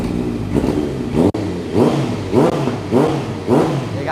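A 2016 Honda CB650F with an Akrapovic slip-on exhaust idles, then snaps through four quick, evenly spaced revs that rise and fall sharply, loud and close with no talking.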